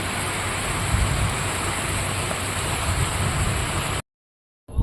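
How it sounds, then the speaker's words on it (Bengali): Steady morning rain falls in Baharampur, a continuous even hiss for about four seconds that cuts off abruptly into silence. "দেখো বহরমপুরে সকাল সকাল বৃষ্টি হচ্ছে"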